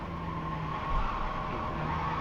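A race car in a driving simulator holds a steady engine tone while drifting wide through a corner, with faint tire scrub and a small bump midway.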